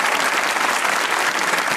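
A studio audience claps for a Pakistani singer-songwriter and actor on a comedy talk show, a dense, steady wash of applause filling the whole moment without any voices over it.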